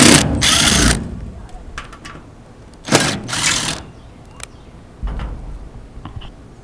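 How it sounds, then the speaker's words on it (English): Screws are backed out of a shed light fixture in three separate whirring, ratcheting bursts that are loud and close, with quiet pauses between them. "I'm going to take a couple of these screws out"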